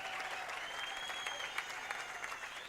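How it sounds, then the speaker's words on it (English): A gym crowd at a high school basketball game claps steadily after a fundraising announcement, dense and even applause heard from a distance at moderate volume. "everybody clapping"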